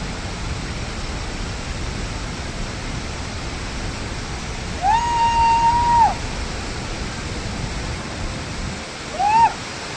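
Nuranang waterfall near Tawang in Arunachal, a 328-foot falls, gives a steady broadband roar of falling water, with brief faint tonal whistles riding over the constant rush.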